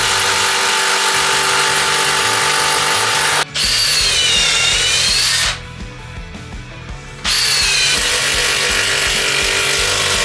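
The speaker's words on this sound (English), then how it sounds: "I know impact drivers are noisy and horrible really" An impact driver in use while building beds in a second-hand greenhouse, heard as a loud, steady, dense mechanical rattle that stops briefly and then resumes.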